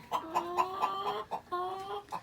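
Chicken hens clucking in a close, steady run of short rhythmic calls, each with bright harmonic tone, with a brief pause partway through before the clucking resumes.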